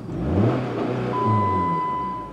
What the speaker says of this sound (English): So I want to see if it just dies just revving it up,